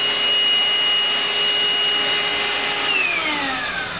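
A Morphy Richards SuperVac 2 in 1 cordless handheld vacuum cleaner runs continuously with a high whine and airy rush, its pitch shifting slightly near the end.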